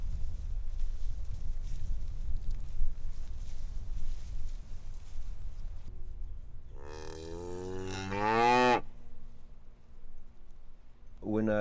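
Cows and calves mooing on a farm, with two loud, drawn-out moos close together near the end and the start of another right after, following several seconds of low rumbling background.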